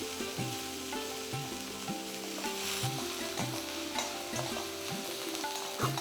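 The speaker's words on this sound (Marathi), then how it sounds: "कांदा तेलामध्ये चांगला परतवायचा आहे." Onion frying in hot oil with a steady close sizzle, while a spoon scrapes and stirs the pan in regular strokes about once a second, over a faint background hum.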